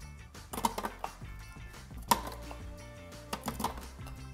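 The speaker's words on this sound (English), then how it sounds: "All you have to do is cut your bananas up." Knife chopping bananas on a cutting board, a few sharp, distinct knocks spaced out with quieter scraping between them, while music plays throughout.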